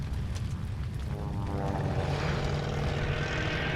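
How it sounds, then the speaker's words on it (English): A propeller airplane drones overhead in Call of Duty Vanguard, a steady rough engine roar that swells and grows louder as it approaches, heard alone without talk. "That's a plane!"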